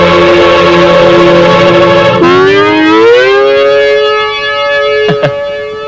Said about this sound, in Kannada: ಸೈರನ್ ಕೂಗುತ್ತೆ, ಕಾರ್ಮಿಕರು ಗುಂಪು ಬರುತ್ತೆ